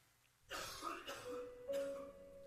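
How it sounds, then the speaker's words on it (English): A character in The Last Door video game gives a short, close cough and throat clearing in two rough bursts, followed by a thin sustained tone. "Oh, coughing."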